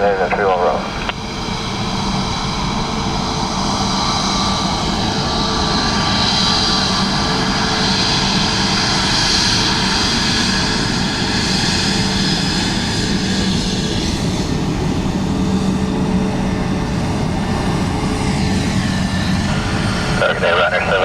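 An ATR turboprop airliner at Dublin Airport gives a loud, steady engine drone with a high whine held throughout, close by, while radio voices speak over it.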